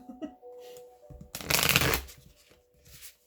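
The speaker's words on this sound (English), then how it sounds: "it's a little difficult to shuffle with still because I haven't worn them in" A new, still-stiff deck of tarot cards being shuffled, a single dense riffling burst about half a second long, close and crisp, framed by quieter handling sounds.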